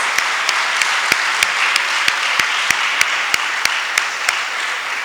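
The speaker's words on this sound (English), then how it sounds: "we should give them a round of applause" An audience applauding at a secondary school graduation ceremony, a dense sustained wash of clapping with sharp regular claps standing out near the microphone, continuing throughout with no break.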